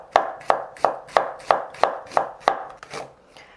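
A knife slices red onion very thinly on a cutting board, nine crisp evenly spaced chops close by in a quick regular rhythm, slowing slightly near the end, with no voices.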